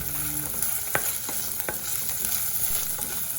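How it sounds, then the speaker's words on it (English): Onions frying with ginger garlic paste for a South Indian brinjal curry, giving a steady close sizzle with a few sharp spoon taps against the pan. "Fry them all till the onion becomes translucent."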